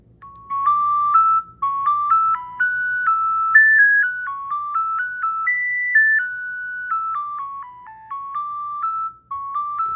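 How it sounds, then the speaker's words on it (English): A Nokia 6010 phone plays a MIDI ringtone, a bright, loud synthetic melody of short stepped notes that runs continuously with brief gaps between phrases and no voices. "Get some MIDI music."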